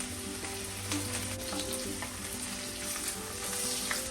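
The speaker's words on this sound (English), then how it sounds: "Heat the pan, then just put the one dry chili, chop garlic, chop onion" Dry chili, chopped garlic and onion sizzle and fry steadily in a hot pan for a pickle, a continuous close crackle with small pops and no voices.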